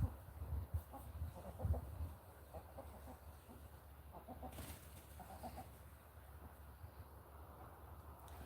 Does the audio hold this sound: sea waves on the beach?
no